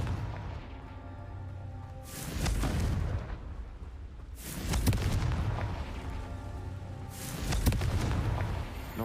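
Three deep, booming blasts of the Confringo blasting curse in a video game, spaced a couple of seconds apart, each a low rumbling burst that swells and fades, with no talk.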